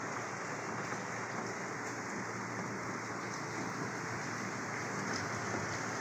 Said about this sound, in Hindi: धुआंधार बारिश हो रही है।